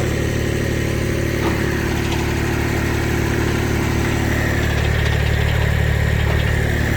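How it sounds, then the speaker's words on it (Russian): A HINOMOTO E2604 tractor engine runs steadily at a constant idle-like drone with a mechanical whir from its running rotary tiller, no voices. "Теперь давай фрезу включим, пожалуйста."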